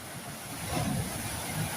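A steady wash of sea surf rolls in the background around a beachfront hotel at Payagala, Sri Lanka, a soft swelling rush mixed with breezy noise, fairly distant and without talk.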